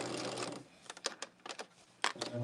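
A sewing machine runs a back stitch on a quilt, with several short, close bursts of rapid mechanical stitching separated by brief pauses.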